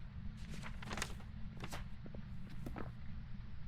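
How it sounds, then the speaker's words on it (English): Footsteps in the horror game Phasmophobia, faint irregular thuds and light shuffles spread across a few seconds over a low steady hum, fairly distant and quiet, with no one speaking. "I hear footsteps."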